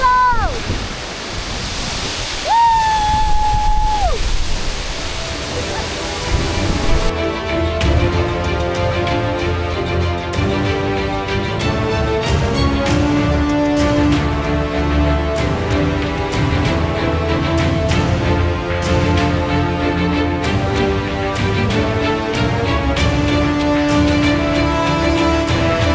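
Tad Yeung waterfall in Laos roars as a steady, full rush of falling water. Music starts a few seconds in and plays over the water for the rest of the clip.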